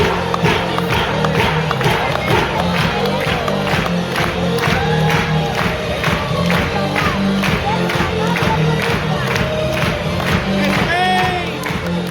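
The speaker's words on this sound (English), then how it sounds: "Everybody clap your hands" Cruise ship passengers at an international flag parade aboard Royal Caribbean's Rhapsody of the Seas, a large crowd clapping in rhythm and cheering loudly over music, with shouts and whoops throughout.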